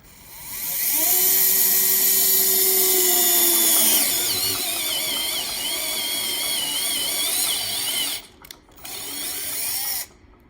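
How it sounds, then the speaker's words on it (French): A Bosch GSR 12V-15 cordless drill fitted with a Bosch Expert wood bit bores into wood. The motor whine rises and strains steadily, then cuts out briefly and resumes before stopping. "On va essayer de pousser les trucs, enfin, la perceuse jusqu'à sa limite."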